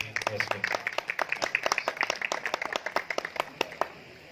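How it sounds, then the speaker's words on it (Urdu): A small audience at an entertainment night gives scattered, quick applause, individual hand claps distinct and fairly near, with a voice talking over them. "تالیاں دی ہیں"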